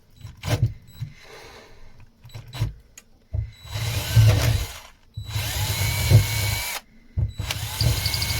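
A power drill boring holes through a boat window, sounding in several close, loud bursts with short pauses and clicking handling noises between them.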